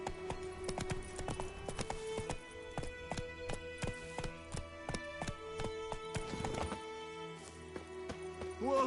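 The horse Roach gallops in the video game The Witcher 3, with rapid rhythmic hoofbeats pounding close and steady before slowing near the end.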